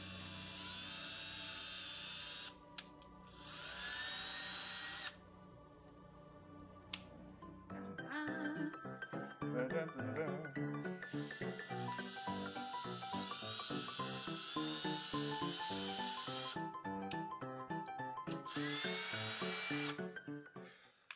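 A high-pitched power drill whines in several bursts while drilling a costume bracer, starting and stopping, close and loud, with a steady mechanical hum running between them.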